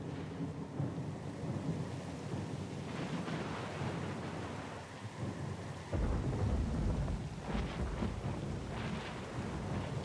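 A thunderstorm at sea in the Pillars of Eternity 2 Deadfire video game: dense rain and rolling thunder fill the whole stretch, with a heavy low thunder swell surging about midway and staying loud.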